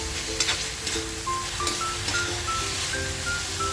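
Chicken fried rice with oyster sauce, garlic, onion and egg sizzles steadily in a hot pan, with a few scraping stirs and faint beeps in the background.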